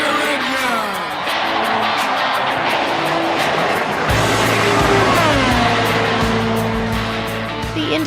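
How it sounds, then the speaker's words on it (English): A field of IndyCar race car engines fires up with a dense, loud roar, high-revving tones sweeping up and down as the cars start together, joined by a deep steady drone partway through. "Drivers, start your engine!"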